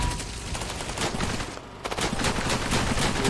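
Enemy gunfire in the shooter game Cepheus Protocol's horde mode, rapid overlapping bursts of automatic fire, loud and continuous, with a brief lull in the middle before resuming.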